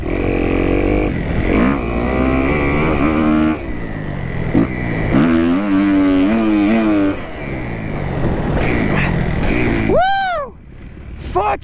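Motocross dirt bike ridden in fourth gear on a main track, its engine loud and close, rising and falling in repeated revving sweeps under wind noise, ending in a sharp high whine at the end.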